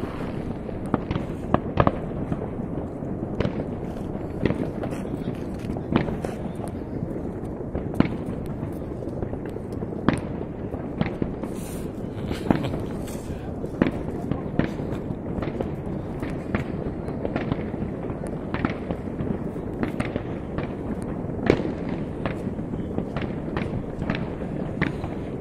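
Dense, continuous New Year's Eve fireworks pop and crackle for a long stretch, with sharp bangs scattered throughout and faint crowd noise underneath.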